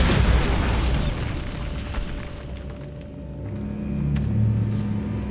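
A Bombarda spell blast in Hogwarts Legacy, played on Nintendo Switch, booms with a broad rumbling burst at the start that fades into low, dark catacomb ambience before a second deep swell near the end.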